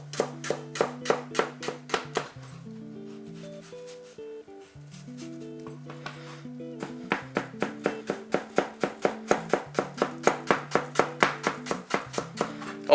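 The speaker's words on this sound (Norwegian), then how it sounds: "La oss begynne med sjalottenløken. Da skjærer vi de ned til så smått vi kan." A knife chops shallots finely on a board, fast rhythmic taps in bursts with a brief pause, close and clear over quiet background music.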